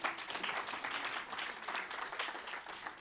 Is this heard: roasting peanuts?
no